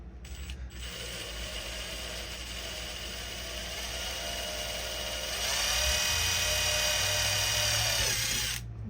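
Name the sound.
drill drilling holes in car body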